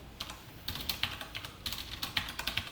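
Fingers type on a computer keyboard during an SQL coding lesson, with quiet, close clusters of quick keystrokes separated by short pauses.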